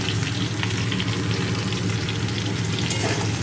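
Aloo posto is frying in a pan after turmeric and jaggery go in. It gives a dense, steady sizzle with faint stirring scrapes, close and continuous throughout.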